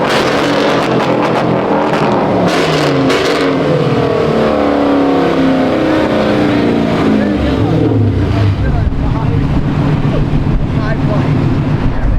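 Loud car engine revving at a car meet in Los Angeles, sustained roaring and rising in pitch through the clip, with a voice speaking over it and wind buffeting the microphone.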